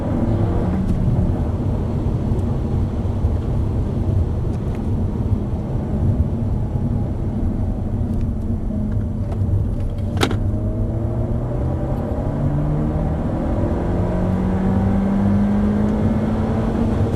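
Peugeot 308 GTi engine pulling hard in a long third gear on the Braga circuit, a loud continuous in-car drone with the engine note climbing steadily as revs build, plus a brief sharp click midway.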